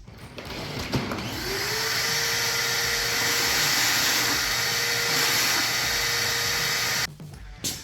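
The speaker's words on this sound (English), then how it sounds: "We'll vacuum that out" A loud, steady whine of a shop vacuum or similar motor runs almost the whole time, cutting off abruptly near the end.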